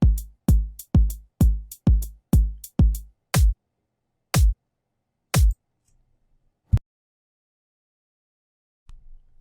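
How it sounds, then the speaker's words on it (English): A sparse drum beat with hi-hat triplets over a 4/4 pulse: a quick run of evenly spaced hits, then single spaced strikes trailing off with long gaps of silence, close and punchy. "you can hear in the hi-hat it's playing in 3 while there's a pulse of a 4 underneath it"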